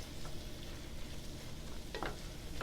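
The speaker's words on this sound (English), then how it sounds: "So fry the kimchi on high heat for maybe about 3 to 5 minutes" Kimchi frying on high heat in a pan, a steady dense sizzle with occasional sharper crackles and stirring scrapes near the end, close and continuous, no talking.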